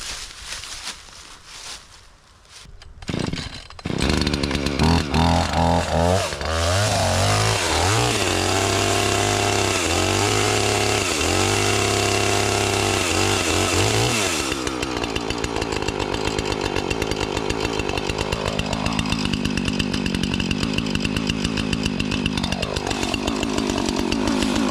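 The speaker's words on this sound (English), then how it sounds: "So get the chainsaw running here." A Husqvarna chainsaw sputters through starting pulls, then roars loud and close, revving and bogging as it cuts through wood.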